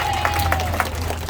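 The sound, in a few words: crowd applause at canal festival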